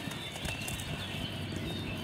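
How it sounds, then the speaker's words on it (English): A small herd of horses grows excited as a kite flies overhead, their hooves producing a steady, moderately close clip-clop and stamping over a low outdoor background, with no talking. "Watch these horses just really herd up,"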